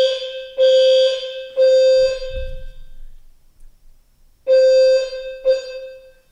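Loud electronic alarm sounds in repeated harsh buzzing tones, two and three bursts separated by a pause with a low thump between them, heard alone with no talk.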